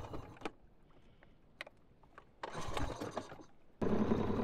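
A small boat's outboard engine coughs through a few sputtering pulls and clunks, then catches and runs as a steady, loud buzzing drone close by, with no talking.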